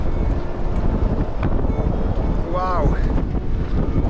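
Stormy harbour wind gusting up to 40 knots, a loud roaring buffet across the microphone with a boat's creaks and a brief whistling tone, while a voice briefly exclaims over it.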